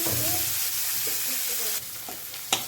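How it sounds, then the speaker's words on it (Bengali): Finely chopped onion with whole cumin fries in a pan, a dense steady sizzle with soft stirring scrapes and a sharp spoon knock near the end. "পেঁয়াজ আমার ভাজা হয়ে গেছে"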